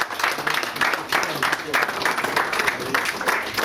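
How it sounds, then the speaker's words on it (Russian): Steady applause from a crowd at an Ossetian community's Victory Day celebration, a dense patter of many hands clapping continuously at a fairly loud level. "И ваши аплодисменты"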